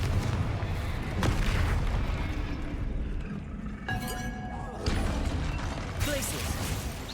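Confringo fire spell being cast during combat in Hogwarts Legacy, heard as a loud burst amid booming blasts and clinking impacts over a dense, continuous battle din.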